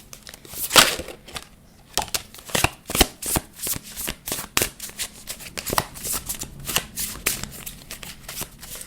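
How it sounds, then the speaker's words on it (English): A deck of cards is shuffled during a card reading, with quick riffles and rapid papery flutters in close, irregular bursts and no voice over them. "I'm just grabbing some more cards."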